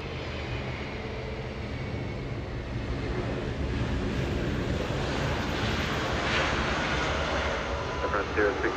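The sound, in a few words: Delta Boeing 767-300 heavy jet arriving at LAX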